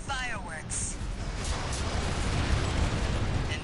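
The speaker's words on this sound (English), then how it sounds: "Missile launch sequence complete, Chief. Ready when you are." Missile launch explosions in the mech combat video game Armored Core VI, building into a dense, sustained roar of blasts and rumbling bursts, loud and continuous, with a brief electronic voice tone at the very start.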